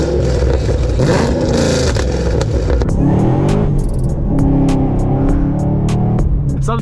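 A Chevrolet Camaro ZL1 with a 650-horsepower engine revs loudly and close by, a dense rumble that swells and falls in repeated pulses over several seconds, with no talking.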